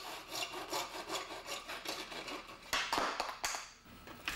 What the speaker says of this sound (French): Découpez les tronçons de conduit à la scie à métaux.